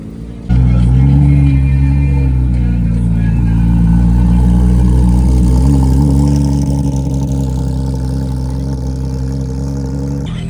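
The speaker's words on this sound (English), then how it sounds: "Some of the GT3 RS is pulling out now." Porsche 911 GT3 RS engine rumbling close by as the car pulls out and drives off, a steady loud low drone with harmonics rising slightly, with voices talking under it.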